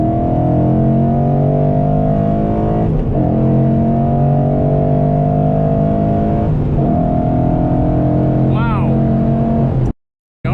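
A 2014 Mustang GT with a Boss 302 intake manifold accelerates hard in a third-gear pull, its engine droning loud and steady with the pitch shifting, heard from inside the car, before cutting off abruptly.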